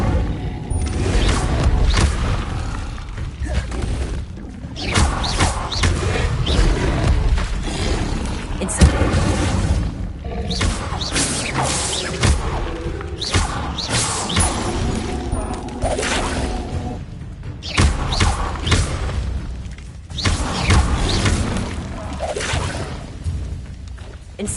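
Repeated fiery spell blasts from the Incendio fire spell in Hogwarts Legacy, played on PS5, forming a dense, loud wash of whooshing bursts and booming impacts that continues steadily throughout with mechanical clatter mixed in.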